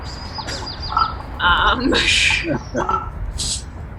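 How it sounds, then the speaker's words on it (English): Chickadees at a backyard bird feeder, with short high chirps and calls scattered through, close to the mic and mixed with rustling, while a person talks underneath. "the chickadees decided to start landing on the camera"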